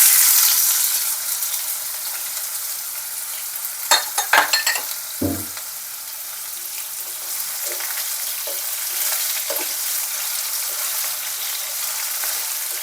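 Parboiled potatoes frying in a pan for a healthy breakfast, a steady sizzle with a few sharp clacks of stirring and a soft thud midway, continuing alone without talk.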